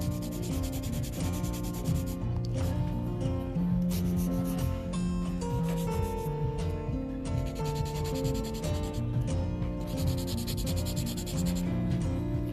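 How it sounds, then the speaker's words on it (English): A 180 grit nail file shapes the free edge of a gel nail in quick back-and-forth strokes, giving a close, continuous scratchy rasping that lasts throughout with no talk. "I'm using a 180 grit file to shape the free edge"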